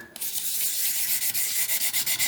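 A whittling knife blade being sharpened on sandpaper, with close, loud rhythmic rasping strokes that start scattered and settle into a quick, regular back-and-forth pattern of about a dozen rubs.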